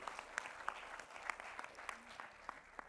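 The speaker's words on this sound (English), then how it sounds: "Can we have a big round of applause for all of you leaders here today?" Applause from a conference audience at a leadership talk, steady clapping filling the room with sharper individual claps standing out, fairly faint and distant with no talk over it.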